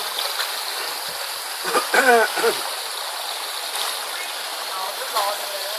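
Forest stream on Phu Quoc island, Kien Giang, flowing as a steady close hiss of running water throughout, with someone talking briefly over it.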